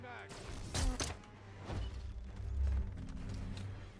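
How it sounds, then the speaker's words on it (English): A magazine change in the Predator: Hunting Grounds video game, heard as a few sharp mechanical clicks and clacks of the weapon reload over low background game noise, with a voice speaking briefly. "Changing mag."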